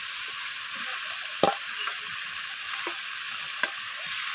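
Potatoes and pointed gourd sauté in a pan with a steady, close sizzle, broken by a few sharp scrapes of a spatula stirring the vegetables, with no talking.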